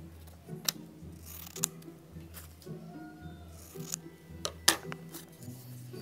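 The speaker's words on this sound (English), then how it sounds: "Let me cut this one out too." Scissors snip through paper in a series of short, crisp cuts spaced irregularly, close and fairly quiet, with a steady low background hum and no talking.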